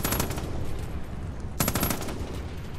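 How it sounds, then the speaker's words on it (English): Rapid automatic gunfire from the player's weapon in Far Cry 5 on a custom Chicago-style combat map, two sustained close bursts separated by a short lull. "My bullets are flying"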